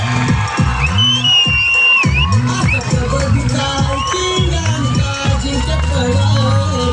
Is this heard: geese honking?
no